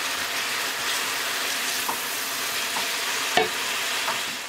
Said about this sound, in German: Jetzt kommen alle anderen Zutaten in die Wokpfanne und werden auch anbraten lassen.